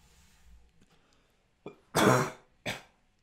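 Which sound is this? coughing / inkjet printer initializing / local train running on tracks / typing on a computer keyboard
coughing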